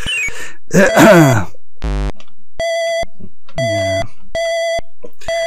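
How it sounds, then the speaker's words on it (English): Repeated electronic beeps from the 1992 Mindcraft video game Siege, several evenly spaced tonal boops in a row after a burst of garbled game sounds and a low buzz, with a brief spoken word. "It's beeping like crazy though."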